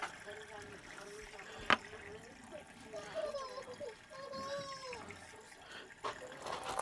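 Water runs steadily into a container on a desert off-grid homestead. The trickle is faint, with a sharp knock early on, chirpy tonal sounds and murmured voices above it.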